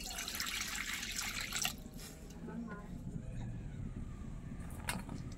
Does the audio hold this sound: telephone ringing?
no